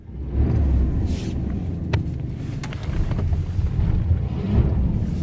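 A stuck truck in 4 low revs hard after a cold start, a loud, steady low rumble with wind buffeting the microphone, and no talking.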